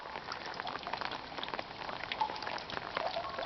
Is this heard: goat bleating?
no